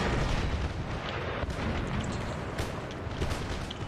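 Artillery fire in a strategy war game booms in a dense, continuous barrage of rumbling blasts and pops, steady and loud with no voice over it.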